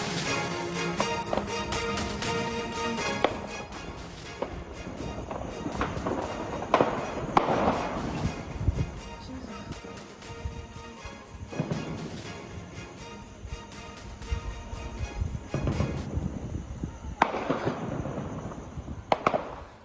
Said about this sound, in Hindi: सियरा लियोन की राजधानी फ्रीटाउन में गोलीबारी हुई है